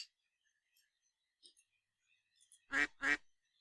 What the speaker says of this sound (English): Quack.